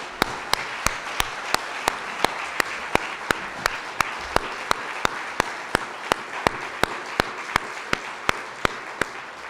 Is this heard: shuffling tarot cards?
no